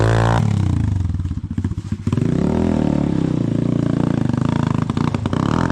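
Enduro motorcycle engine running loud and close, with a steady buzzing drone, a brief dip and rattle, then steady revving as the bike pulls away.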